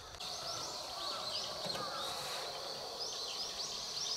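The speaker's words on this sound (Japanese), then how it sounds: "ウグイスの鳴き声かな" A Japanese bush warbler (uguisu) sings near a remote dam lake during bass fishing, with bright repeated whistled phrases and trills at moderate distance over a soft outdoor background.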